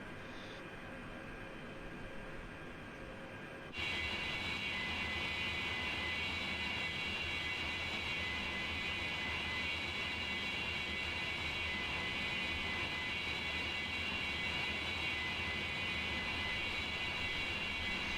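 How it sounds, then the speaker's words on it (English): An airplane engine in a flight simulator video game fades in low, then jumps to a loud, steady jet-like roar that holds evenly for the rest of the stretch, with no voices. "What a cool plane, guys."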